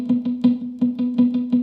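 Funk guitar pattern with a note bent up a semitone from minor to major third, heard among evenly spaced muted strokes, close and unaccompanied.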